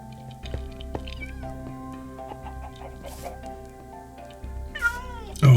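Cats in Minecraft meow repeatedly, several clear rising and falling calls spread across the clip over steady in-game background music, with a louder burst near the end.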